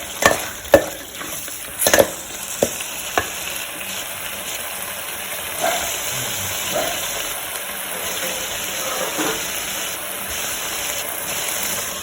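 Chicken cooking in a pan with turmeric and salt, opening with a few sharp spoon knocks and scrapes against the pan, then a steady bubbling sizzle with intermittent stirring, close and moderately loud.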